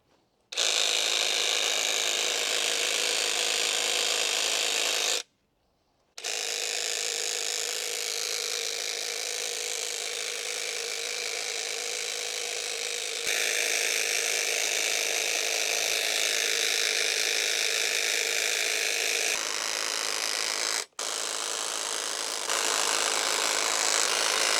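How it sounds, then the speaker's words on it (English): A Kress battery hedge trimmer cutting a hedge, a continuous close high-pitched motor buzz with rattling blades, broken by two short stops before running on steadily. "So this hedge is quite tricky and fiddly to cut, and with these hedge cutters"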